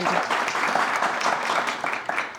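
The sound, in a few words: audience applause for quiz team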